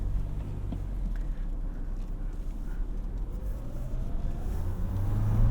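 A 2024 Toyota Land Cruiser 1958 climbs off road in low range with its differentials unlocked, giving a low, steady engine rumble that builds slightly toward the end, heard from inside with no talking.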